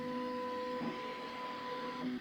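A Bambu Lab X1 Carbon 3D printer with AMS preheats its hotbed and nozzle and runs. It gives a steady electronic whine with layered tonal hums and fan noise, close and fairly loud, and one brief pitch shift partway through.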